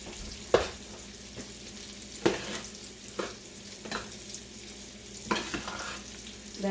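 Soft stirring and mixing of cheese into a manicotti filling in a bowl, with several brief scraping swishes spaced irregularly over a low steady background.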